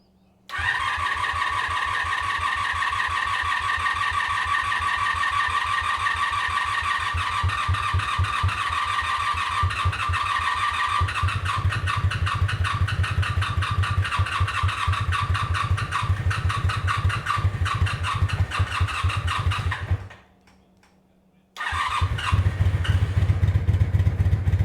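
A vehicle engine kept in a garage cranks and catches after a jump box is connected, then settles into a steady, loud, close idle that drops out briefly near the end before resuming.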